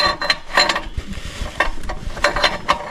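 Metallic clicks and rattles of a socket being fitted onto an oxygen sensor on a 2016 BMW 428i xDrive with the N20/N26 engine, a close series of irregular tool clinks with no talk.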